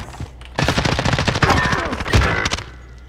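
Rapid automatic gunfire from a gun in a multiplayer shooter video game, loud sustained bursts of close shots with brief pauses, with voices in the background.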